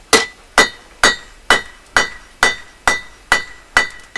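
A blacksmith strikes hot metal on an anvil with a hammer: nine sharp, ringing blows land at an even, steady pace, close and loud with no voices.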